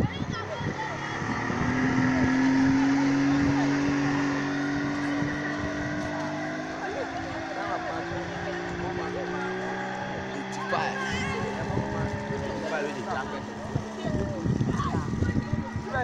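A 40 horsepower outboard engine drones steadily on the water, its pitch rising and then settling into a sustained hum, with wind buffeting the microphone and voices briefly audible.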